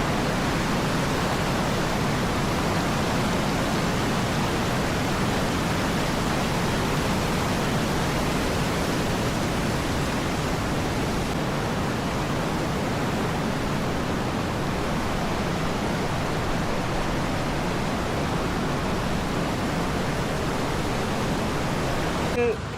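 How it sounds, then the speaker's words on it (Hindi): Cold mountain spring water in Stak Valley, Skardu, rushes in a steady, loud, broadband hiss of flowing stream, unbroken and close for the whole stretch with no voices over it. "यह आगे पहाड़ों से स्प्रिंग वाटर आता है"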